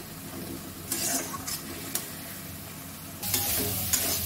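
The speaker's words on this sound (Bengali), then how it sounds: "হয়ে গেছে শাক ভাজা।" Punarnava greens frying in a pan with green chillies, a steady low sizzle broken by occasional stirring scrapes, with a louder burst of frying near the end.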